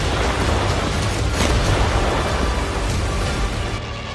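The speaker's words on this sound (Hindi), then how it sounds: "इस वीडियो में ज़ेलेंस्की को डराने वाला बहुत बड़ा धमाका है।" A huge blast from a Russian drone strike in wartime Ukraine, heard as a loud, close, sustained roaring rumble that fills the whole clip without easing.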